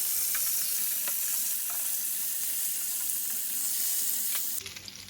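Pieces of grass carp fish fry steadily in hot oil in a pan, a continuous loud sizzle with faint crackles throughout, dropping off briefly near the end.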